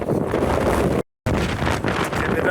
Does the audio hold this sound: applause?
no